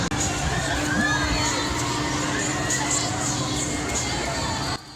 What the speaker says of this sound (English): Don't let the screaming distract you.